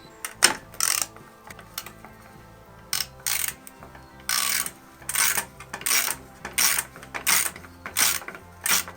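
A hand ratchet unbolts the drain plug on an oil catch can, its rapid pawl clicks coming in repeated short bursts with brief pauses between, close and fairly loud, with no talking.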